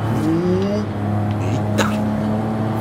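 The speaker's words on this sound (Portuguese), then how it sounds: "E o barulho do motor." Volvo V60 engine in the racing game Forza Horizon 5, a steady droning hum with a rising rev tone, heard under someone talking.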